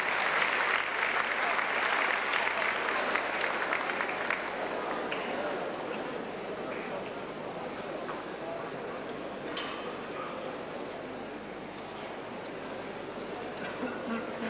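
A large audience applauds at a university opening ceremony in a hall, steady dense clapping that holds for the whole stretch and eases slightly partway through.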